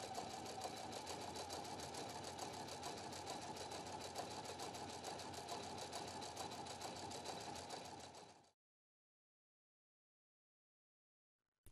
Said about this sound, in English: The reinforced straight stitch is great to mend and sew strong seams